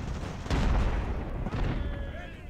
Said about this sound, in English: You can see our own guns here firing at the 43rd Foot.